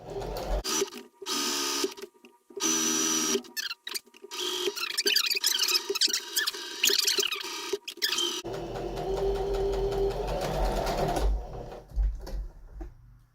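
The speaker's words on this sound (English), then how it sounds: "So we basically just stitch a flat seam." Sewing machine stitching a flat seam on a pillow, a rapid close mechanical clatter running in several bursts separated by short pauses, then a longer steady run with a quieter hum.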